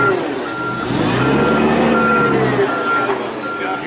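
A truck rolls in while reversing, its steady, evenly spaced backup beeps sounding over a low rumbling engine close by.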